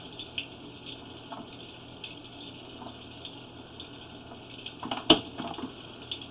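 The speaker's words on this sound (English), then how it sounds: "We are currently running water to help kind of wash out the line." Water runs steadily through a blocked and then cleared drain line, a faint continuous hollow wash echoing inside the pipe, with a few soft knocks and one sharp clunk partway through.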